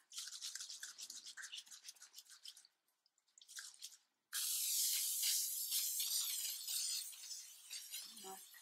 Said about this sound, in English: I need to spray the back of this image with the spray mount.